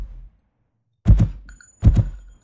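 A gun in an Unreal Engine 5 video game fires two single shots about a second apart. Each is a short, muffled thump followed by a faint mechanical tail, with silence in between.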